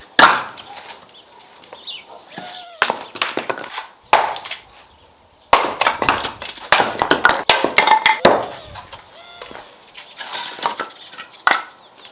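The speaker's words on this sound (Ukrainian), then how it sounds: "Для початку нарубаємо дрова." An axe chops firewood in bursts of sharp, close, cracking strikes with brief pauses between the runs of blows.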